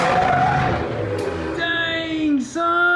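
A 2020 Jeep Gladiator Rubicon pulls out with its tires skidding and squealing, a loud rising screech under the engine roar over about three seconds, with a brief dip near the end.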